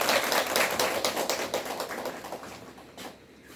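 An audience at an admissions information session for a science high school claps briefly, a burst of scattered hand claps that fades out over a few seconds.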